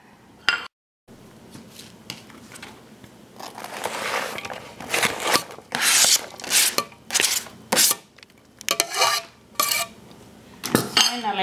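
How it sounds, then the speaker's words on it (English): A spoon works through spring roll filling in a bowl, with bursts of clinking and scraping against the sides in an irregular rhythm, close and loud, after a brief quiet gap at the start. "I'll combine all the ingredients in this bowl now and mix it all up."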